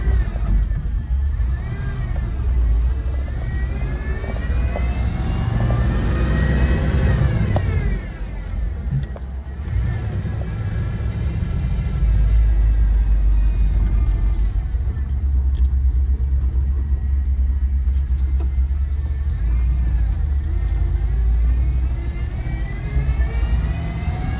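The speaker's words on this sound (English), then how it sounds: "Downshifting the transmission through the gears." A 1971 Ford F250 Ranger XLT Camper Special pickup downshifting through its manual gears while driving, steady loud engine rumble with rising and falling revs and gear changes, road and wind noise throughout, no talking.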